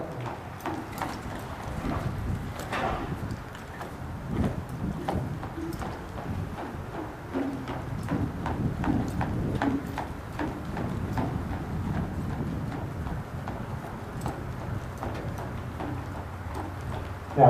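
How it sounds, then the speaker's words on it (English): A horse's hooves clip-clopping steadily on firm ground as it works through circles and bends in a training session, a continuous even rhythm of moderate loudness with no talking. "he's a very tricky horse"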